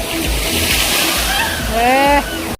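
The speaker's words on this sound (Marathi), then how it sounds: "वरचं पाणी जे खाली येतं आणि बादली पलटी होती अंगावर" At a water park, a big overhead bucket tips and dumps water onto the people below. A continuous heavy rush and splash roars throughout, with excited voices rising over it near the end.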